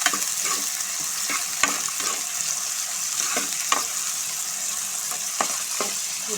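Onions and garlic frying in oil, a dense steady sizzle close by, punctuated by occasional light taps and scrapes of a spoon stirring the pan.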